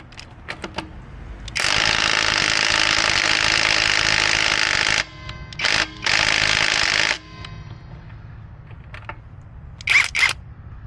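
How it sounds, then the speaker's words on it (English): A Hyper Tough 12V cordless impact wrench hammers at the lug nuts on a jacked-up SUV, with a long loud rattling burst, a pause, two shorter bursts, then quieter clicks and a final brief blip. "I'm going to try to remove a couple of these lugs."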